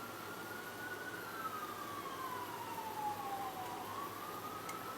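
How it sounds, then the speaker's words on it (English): Distant emergency vehicle siren wailing in a slow rising and falling tone, faint against steady outdoor background noise in North Charleston. "Ooh, I hear sirens."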